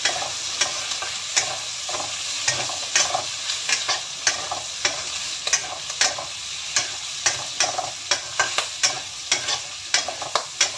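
Black fungus and cabbage fry noisily in a pan for fried noodles, a steady close sizzle punctuated by frequent sharp pops and spatters that crackle through the whole stretch, with no voices.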